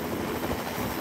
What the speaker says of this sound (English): We're going to ride on the helicopter to school.